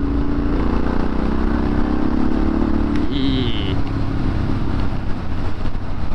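A Moto Guzzi Griso V-twin motorcycle engine idles with a steady, deep low rumble throughout, close and continuous, with a brief higher-pitched tone briefly over it partway through.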